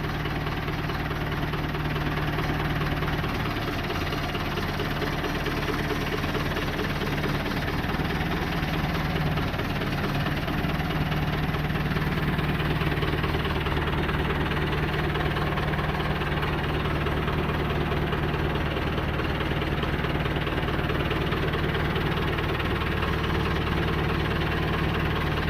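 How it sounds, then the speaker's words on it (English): Rebuilt motor of a Ford backhoe running steadily, a continuous low mechanical drone with a persistent rhythmic knock, close and even in level throughout with no talk. "By the way, the motor's still running really good on this Ford."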